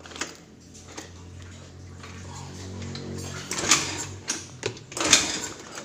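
A Yamaha NMAX scooter engine idles just after starting, a steady low hum running underneath while louder clicks and clatters from nearby handling rise and fall over it.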